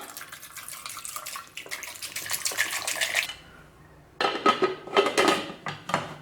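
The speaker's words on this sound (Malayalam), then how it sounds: "ഇതിലേക്ക് ഇനി ആവശ്യത്തിന് വെള്ളം ഒഴിച്ചു കൊടുക്കാം." Water is poured into a pot of potatoes while cooking potato masala for poori and chapati, a splashing, gurgling stream in two bursts separated by a short pause, with faint clinks of cookware, close and clear.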